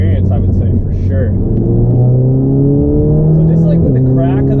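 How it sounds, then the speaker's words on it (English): An Audi S3 with a Stage 2+ 034 Motorsport tune revs, its loud, close engine drone climbing steadily in pitch, then dipping briefly and rising again, heard from inside the car. "So just like with the crack of the throttle"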